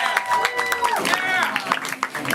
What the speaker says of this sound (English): Let's clap for her and give her some encouragement.